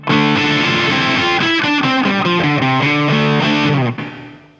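An electric guitar plays a fast run of sustained notes through a Boss DS-1 distortion pedal set above twelve o'clock, a loud, bright, saturated tone that fills the clip before cutting off near the end.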